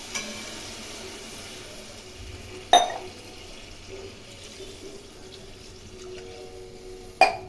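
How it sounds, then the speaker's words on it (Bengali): Water pours into a cooking pan of hilsa fish curry with aubergine and mustard paste, a steady hissing sizzle lasting throughout with two sharp clinks, close and moderately quiet. "এই সময় জল দিয়ে দেবো"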